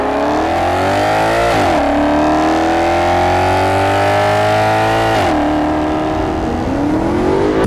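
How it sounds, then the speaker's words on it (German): A Maserati GranTurismo's Ferrari-built V8 revs loud and close, its strong harmonic engine note rising and falling through several throttle sweeps, alone with no talk. "Dieser Wagen hat einen V8 Motor von Ferrari, der ungefähr so klingt, als würde Jesus persönlich runterkommen und einem das Ohr abschlecken."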